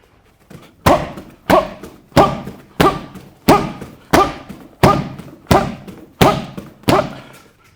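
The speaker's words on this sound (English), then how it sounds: "And those are some power kicks there." Power round kicks slam into kick pad targets in a steady series of about eleven heavy thuds, each a sharp close impact with a short decay, evenly spaced roughly two-thirds of a second apart with no talking.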